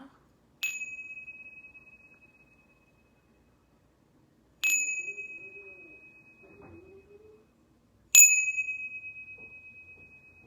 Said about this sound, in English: I'm going to give 3 tones of the bell as sort of a little motivation to get you moving.